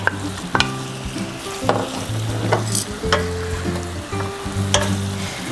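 Shrimp being stir-fried in chili paste and milk sauce, a constant close sizzle broken by several sharp spatula scrapes and knocks against the pan at irregular intervals.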